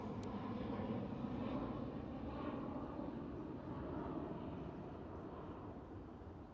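A KLM Cityhopper Embraer E175 airliner at Amsterdam Schiphol rumbles as a steady, faint jet roar that slowly fades, with no voices over it.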